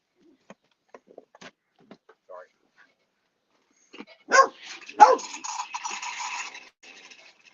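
Faint scattered sounds give way to a burst of dog barking and yipping midway, fairly close, trailing into a noisy stretch.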